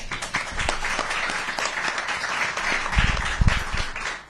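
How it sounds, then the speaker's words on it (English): Applause from an audience at a press conference on property tax relief, a steady patter of many hands that swells briefly near the end. "I'm sure the clapping was for him, not for me"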